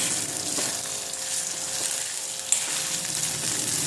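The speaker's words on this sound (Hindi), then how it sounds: "और इसमें साथ साथ में गुड़ भी डाल दो। हम अच्छी तरह से पकाएंगे।" Jaggery cooking with ghee in a pan for a home cough remedy, a steady close sizzle and frying hiss with faint stirring scrapes and one brief click, no voices.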